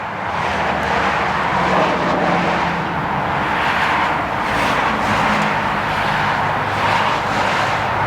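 An Ariens 11528 snow blower with power steering runs in gear, its engine giving a steady, loud, rumbling drone with slight rhythmic pulsing throughout, close by and without talk.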